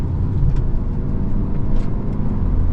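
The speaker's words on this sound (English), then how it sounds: "So setting off now in the Elantra N-Line" A 2025 Hyundai Elantra N-Line sedan with a turbo engine and dual-clutch transmission sets off, giving a steady, close, fairly loud engine and road drone with no talking.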